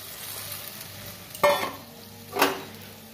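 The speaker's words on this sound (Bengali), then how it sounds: "এবার মাছ তেঁতুল বড়ি সব ঢেলে দিচ্ছি।" Fish, tamarind and lentil bori are tipped into a hot pan, setting off two sharp bursts of loud sizzling over a low, steady frying hiss, with no voices.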